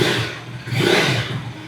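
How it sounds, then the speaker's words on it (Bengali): A KTM 250 Adventure motorcycle, a 2026 model, runs steadily after starting, its single-cylinder exhaust note loud and close with broad, rumbling noise that swells slightly mid-way without clear revving. "একবার স্টার্ট করে এটা এক্সস্ট নোটটা শুনিয়ে দিই।"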